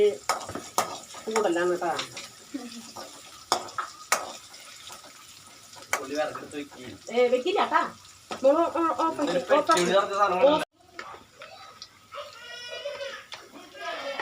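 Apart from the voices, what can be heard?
stirring crushed garlic and onion frying in oil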